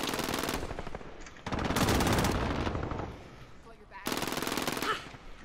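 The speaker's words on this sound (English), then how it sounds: "Enemy sentry gun active." A sentry gun in the video game Modern Warfare fires in three loud, rapid automatic bursts separated by short pauses, close and harsh, with little else beneath.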